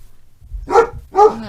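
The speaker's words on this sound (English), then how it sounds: "the dogs are going nuts" Two loud, sharp dog barks a split second apart, close by, in a snowy setting with no talk over them.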